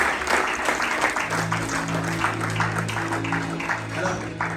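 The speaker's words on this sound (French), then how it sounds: "Tu peux juste acclamer Dieu pour ça." A church congregation applauds and cheers in praise of God, with steady dense clapping and crowd voices filling a large room, joined by sustained organ or keyboard tones from about a second in.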